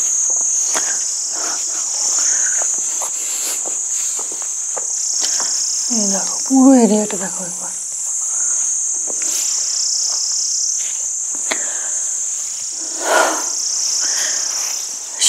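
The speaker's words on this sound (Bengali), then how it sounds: "শুধু কতগুলো ঝিঝি পোকার ডাক।" Crickets chirp steadily at night in a quiet, open rural area. Their shrill, continuous trill runs through the whole stretch, with faint footsteps and a brief stretch of nearby talk about midway.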